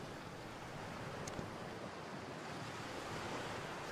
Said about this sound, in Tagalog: andito ako ngayon sa tabing dagat